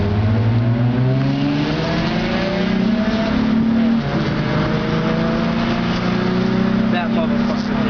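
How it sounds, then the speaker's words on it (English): A Honda Civic in a street race accelerates hard, its engine note climbing in pitch through the gears with a brief shift partway, loud and close, while spectators talk over it. "We're about to see Joseph get smoked by a Honda Civic."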